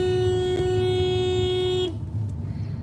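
A voice imitates the horn of a Mercedes taxi blaring nonstop, a steady nasal tone held for about two seconds before cutting off abruptly.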